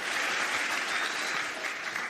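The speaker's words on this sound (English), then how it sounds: "Give yourselves a round of applause, guys" Crowd at a Michigan political rally for President Trump applauding, a loud, dense wash of clapping that carries steadily from start to finish with no break.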